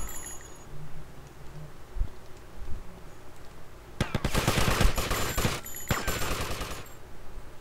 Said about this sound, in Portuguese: você não vai atirar no cara não?